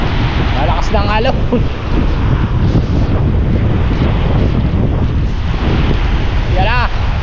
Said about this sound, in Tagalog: malakas na ang alon.